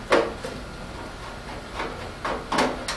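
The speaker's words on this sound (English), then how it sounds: "we're going to remove these 2 screws here" Screws are unscrewed from a computer case during cleaning, giving a few faint close scraping and clicking turns spread over a few seconds, with quiet gaps between them.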